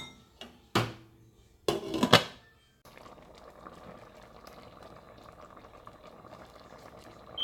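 Corn porridge (oblayo) simmers in a covered pot, a soft steady bubbling hiss that runs through most of the clip after a few loud knocks and scrapes of the lid and pot at the start.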